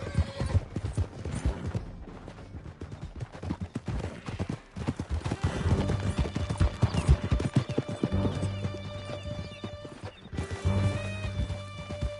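Horses gallop hard through a canyon in Red Dead Redemption 2, hooves clip-clopping in a loud, dense rhythm over a continuous game score, with a brief whinny and a lull near the middle before the pounding resumes.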